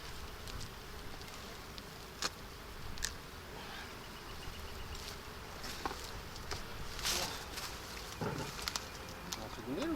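Honey bees hum steadily around Kenyan top-bar hives outdoors, a continuous buzzing bed with occasional clicks and faint bird calls over it.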